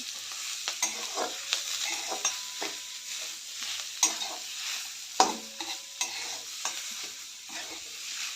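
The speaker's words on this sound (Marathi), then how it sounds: "त्यानंतर वाटलेली डाळ यामध्ये घालते चांगलं परतून घेऊया" Ground lentil paste for vatli dal, a Ganesh Chaturthi prasad, being stir-fried in a pan with curry leaves: steady scraping stirs over a soft, continuous sizzle, fairly close, with no talking.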